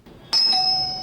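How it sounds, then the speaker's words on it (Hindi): A doorbell at a bungalow's front door rings once, a clear electronic chime that starts sharply after a brief quiet moment and rings on, sustained and fading slightly. "अब वो दरवाजे पर पहुंचकर बेल बजाएगी।"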